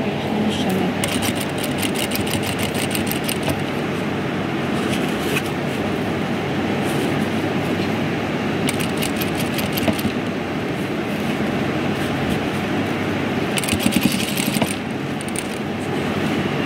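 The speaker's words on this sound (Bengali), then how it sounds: "পুরাটা একটা সেলাই দিয়ে আটকে দিলাম" A sewing machine stitches cloth in a loud, steady mechanical whir that runs the whole time, with brief rhythmic bursts of needle chatter, and a voice speaks over it.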